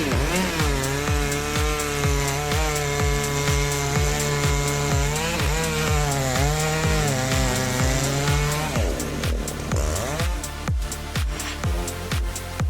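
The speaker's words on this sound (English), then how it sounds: "The rumbling sound fills the air as the blades power through the wood" Chainsaws cutting through very hard, dry oak: a loud, sustained high-revving engine whine with steady pulsing harmonics and shifting pitch under load, continuous throughout with no talk.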